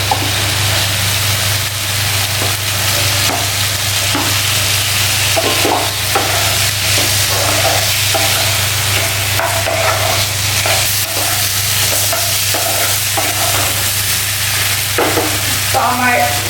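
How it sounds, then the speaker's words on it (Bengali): Potatoes and cauliflower sautéing in a curry base with tomato in a pan, a steady close sizzle and frying hiss with repeated scraping and stirring strokes from a spoon, under a constant low hum throughout. "আরো কিছুটা কষাবো আলু আর ফুলকপিটা দিয়ে"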